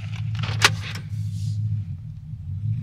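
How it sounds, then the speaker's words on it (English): A truck's tire carrier is swung shut, giving one sharp metallic clunk amid faint rattles over a low idling engine hum. "I gotta close my tire carrier."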